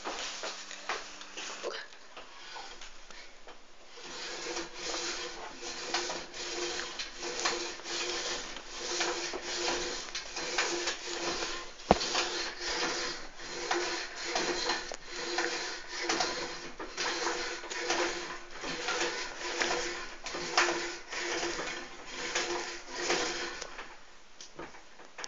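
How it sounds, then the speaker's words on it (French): A lat pulldown cable machine in a gym works through steady repetitions, producing rhythmic rubbing and sliding strokes of the cable and weight stack at close range, with one sharp click midway. "Comme là vous avez vu, j'ai fait le tirage poulie haut devant."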